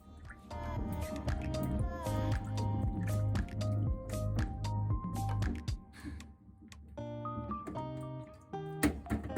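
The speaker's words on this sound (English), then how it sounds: "At first, wash the Japanese plums." Japanese plums are washed by hand in water, giving close, wet squishing, sloshing and dripping sounds over quiet background music.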